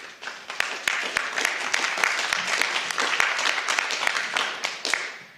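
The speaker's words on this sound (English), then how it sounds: "I will accept applause," Audience applause at a council meeting, a full room clapping steadily for several seconds, swelling early and tapering at the end.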